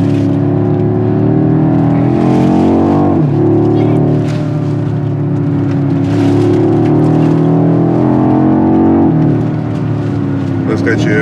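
A BMW X6 M Competition drives and accelerates with a steady, loud engine drone that rises and dips in pitch, while people talk over it inside the cabin throughout.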